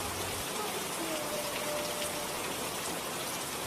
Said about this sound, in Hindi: बाहर बारिश पहले से भी तेज हो चुकी थी